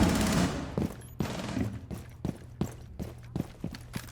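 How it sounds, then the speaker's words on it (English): Rapid bursts of gunfire from the online shooter Rainbow Six Siege crack out in a series of sharp, loud shots, a dense volley at the start followed by spaced single reports and short bursts, with no voices. "He just tried to shoot at them again."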